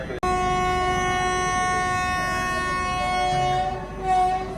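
A long, steady horn from the Tirupati–Puri Express (train 17406) blares loudly for several seconds, its layered tones holding level before fading, with rumbling rail noise underneath.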